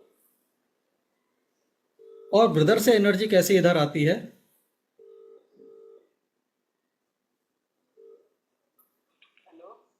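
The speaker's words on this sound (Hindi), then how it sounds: "अब इनके ब्रदर को मैं फोन लगाऊंगा और इनके ब्रदर फोन उठाएंगे।" A phone call on speakerphone rings out in short evenly spaced tones after someone speaks briefly, the tones fairly quiet in an otherwise silent room.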